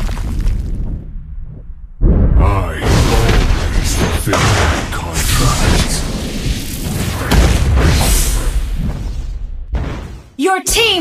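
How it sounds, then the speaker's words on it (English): A turret being destroyed in the mobile battle game Mobile Legends: loud booming blasts and crunching bursts pile up over several seconds, with an announcer voice speaking over the din. "destroyed a turret!"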